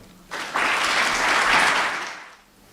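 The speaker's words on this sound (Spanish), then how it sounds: "Un fuerte aplauso para Agustín" Audience at a talk on mediumship gives a speaker a strong round of applause, clapping swelling in abruptly, holding loud and even for about two seconds, then fading out.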